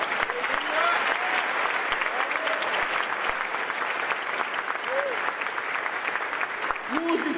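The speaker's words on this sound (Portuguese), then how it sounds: "E você podia aplaudir o Senhor em nome de Jesus." A church congregation applauds during a worship service, a dense, sustained wash of many hands clapping at an even level throughout, with faint voices calling out underneath.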